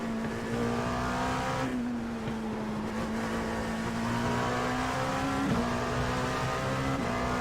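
Race car engines roar continuously in the iRacing sim at an IMSA round at Charlotte as a Corvette lets the player pass, a loud steady engine drone with slight pitch shifts and no voices.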